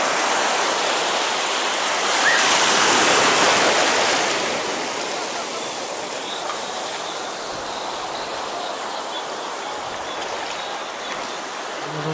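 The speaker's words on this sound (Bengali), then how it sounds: "হ্যাভি সুন্দর ঢেউ বন্ধুরা, হ্যাভি সুন্দর ঢেউ।" Sea waves roll in at Bakkhali beach in West Bengal, a loud continuous rushing wash of surf that swells early and then settles into a steady roar, with no voices.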